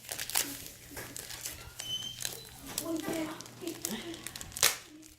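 Crinkling and tearing sounds of a dream catcher kit package being opened up close, with light rustles and a faint steady hum underneath.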